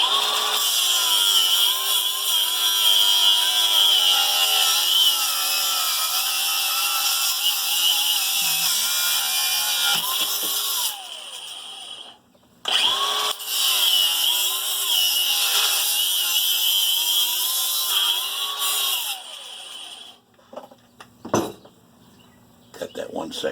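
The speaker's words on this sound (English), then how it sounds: "And I do that with my angle grinder." An angle grinder cuts through an aluminum bicycle rim, a loud, steady high-pitched whine and screech that runs for most of the stretch, with a brief pause midway and a few sputtering bursts as it winds down. A voice talks faintly beneath it.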